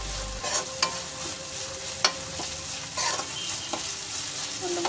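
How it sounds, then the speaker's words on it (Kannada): Onions frying with a little salt in a pan, a steady close sizzle punctuated by sharp metal spatula taps and scrapes as they are stirred. "ಈರುಳ್ಳಿನ ಚೆನ್ನಾಗಿ ಫ್ರೈ ಮಾಡ್ಕೊಳ್ಳೋಣ."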